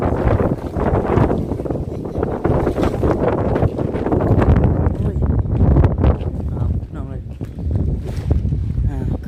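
Cold wind blowing hard across the microphone outdoors, a continuous loud rumbling buffet with gusting surges, while a person talks underneath.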